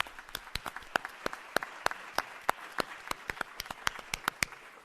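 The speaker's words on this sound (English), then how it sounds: "Let's give them a round of applause, please." Sparse clapping at a candidate forum at Town Center in Flower Mound, a few hands striking at an uneven pace, fairly quiet in the room.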